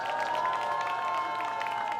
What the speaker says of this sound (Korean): 에너지틱한 연사 보여준 장민 양에게 다시 한번 큰 박수 부탁드리겠습니다.